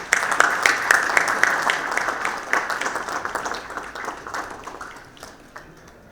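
An audience at a panel event applauds to welcome a speaker, many hands clapping in a lively burst that gradually thins and fades toward the end.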